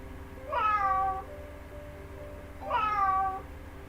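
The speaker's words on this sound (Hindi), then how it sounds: "बिल्कुल सही, बिल्ली यानी कि कैट" A cat gives two clear, separate meows a couple of seconds apart, close and moderately loud over a quiet, steady background hum.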